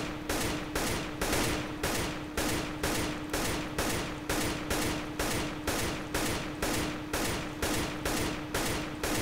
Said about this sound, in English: Now I'm doing 2 shots per burst here